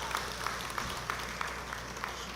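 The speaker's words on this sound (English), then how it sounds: "I want you to give yourselves a round of applause" Applause from a political rally audience, a steady soft wash of clapping with faint sharper claps recurring at a quick, even pace, heard from a distance and fairly quiet throughout.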